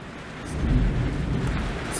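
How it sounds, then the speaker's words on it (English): Thunder from a storm outdoors, a deep, far-off rumble swelling and fading over about two seconds under a steady wash of rain, with no talking. "It's a bit stormy outside today."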